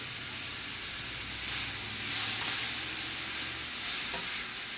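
Vegetables for a cheese steak sautéing in a hot pan give a steady, hissing sizzle that swells slightly midway, with faint stirring beneath it, moderately quiet and with no one talking.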